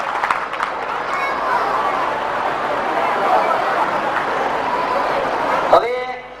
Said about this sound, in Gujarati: તો તેમનું પણ આપણે તાળીઓથી સ્વાગત કરીએ